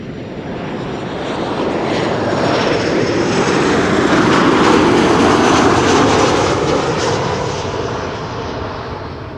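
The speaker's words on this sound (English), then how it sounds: "another Transavia incoming, arriving from Preveza, flight 5792, PHHSK" A Transavia airliner arriving from Preveza on its landing approach to Schiphol Airport, its engine roar loud and steady, swelling toward the middle and easing slightly at the end, with no voices.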